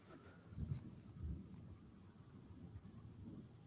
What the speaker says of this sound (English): it is just constant flashing and thunder